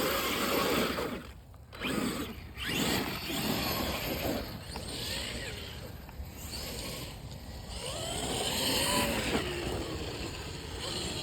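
A Traxxas radio-controlled car revs and whines over rough ground while popping wheelies outdoors, its motor surging and fading at varying distance, with brief voices mixed in.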